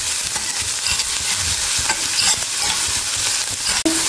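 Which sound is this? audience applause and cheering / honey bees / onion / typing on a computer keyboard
onion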